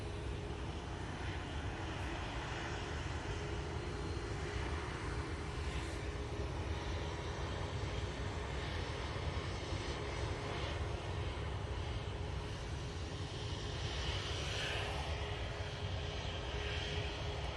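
An SAS Airbus A320neo in old livery arrives at Manchester from Stockholm, giving a sustained, fairly distant engine roar with a faint steady whine, unbroken by talk.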